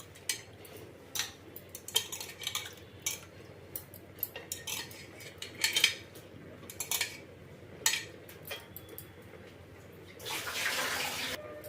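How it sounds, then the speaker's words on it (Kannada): Utensils clink sparsely in a kitchen, then water is poured into a cooking pot for a bamboo shoot sambar, a brief rushing splash near the end. "ನೀರು ಸ್ವಲ್ಪ ಹಾಕ್ತೀನಿ ನಾನು, ಜಾಸ್ತಿ ಬೇಡ"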